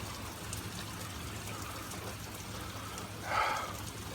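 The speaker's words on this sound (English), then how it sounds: "This rain is just completely chaotic, man." Heavy, chaotic rain pours onto a road, running off into rivulets as a steady broadband wash, with a brief louder splash or gust surging near the end.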